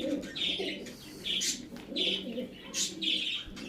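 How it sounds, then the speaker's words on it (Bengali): 128 plus breed pigeons in a loft give soft, faint, repeated cooing calls in short bursts, with a few light chirps between them. "একদম পাট্টা পায়রা"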